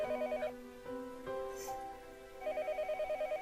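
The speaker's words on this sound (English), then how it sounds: "The phone rang noisily downstairs." Telephone ringing in the visual novel Higurashi: an electronic ringtone with rapid repeated trilling bursts at the start and end, separated by a sustained musical passage, moderately loud with no speech.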